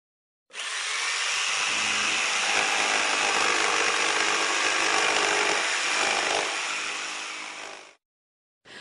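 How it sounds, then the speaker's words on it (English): A circular saw cuts through wood in one continuous, loud, close whine lasting about seven seconds before stopping abruptly, followed by a brief tail of sound. "You have a band saw, you have a circular saw, and this one makes this sound."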